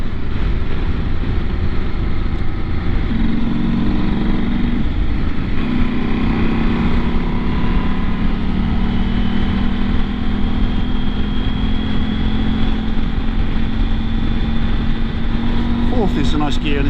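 KTM 790 R Adventure motorcycle cruising in top gear at about 65 mph and 4,500 rpm, a steady engine drone under heavy wind rush that holds evenly throughout.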